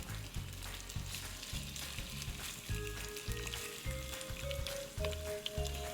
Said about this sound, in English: So now it's time to put our shrimp that has been marinating in the sherry and cornstarch into the oil.